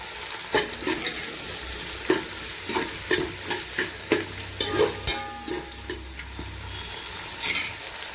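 Coriander and mint sizzle softly in a pan, with fairly quiet frying hiss and a string of sharp scrapes and taps as a spatula stirs the leaves.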